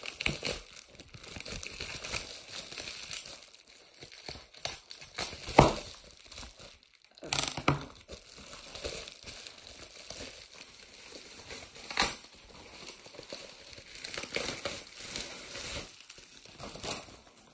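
Taped parcel being opened by hand, with close, fairly quiet crinkling of packaging and tape and several sharper tearing bursts along the way, no talking.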